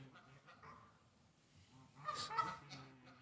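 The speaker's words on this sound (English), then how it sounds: "we have some geese fighting" Fighting geese honk loudly and harshly in a noisy burst, a squabbling cluster of calls rising over a low background murmur, then trailing off.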